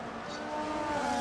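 A Formula 1 car in a racing video game roars past on an overtake at the Japan round, its engine note steady and fairly close, rising slightly in level as it passes.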